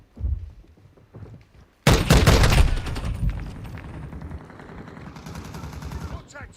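Dense bursts of gunfire from Call of Duty Modern Warfare II, with a loud rapid volley starting partway through and continuing as a rattling barrage under game noise, preceded by quieter voices.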